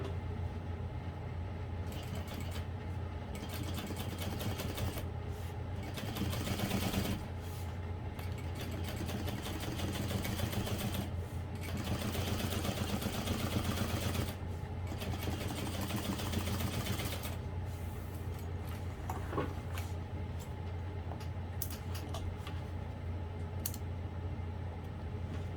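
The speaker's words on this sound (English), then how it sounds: "I'm going to top stitch through that seam, again using a 1/4 inch seam allowance." Sewing machine top stitching a quarter-inch seam on a barrel bag's drop-in lining, a continuous steady whirring hum with slight shifts in pace, running alone for the full stretch.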